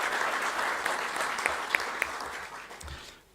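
Audience applause at the close of a conference speech, a steady wash of many hands clapping in a hall with a few louder single claps, tapering off at the end.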